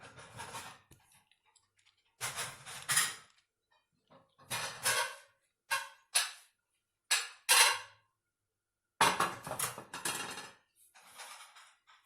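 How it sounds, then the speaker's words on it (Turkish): Plates and dishes clink and clatter in a home kitchen as a plate is taken for serving homemade döner, coming in several short, close bursts separated by pauses. "Hemen şuradan tabak alalım."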